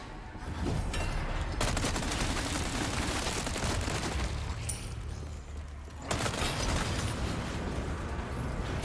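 A cannon fires in the video game Resident Evil 4 Remake, a loud, sustained barrage of booming blasts and rapid gunfire that rolls on for several seconds with a brief dip before surging again.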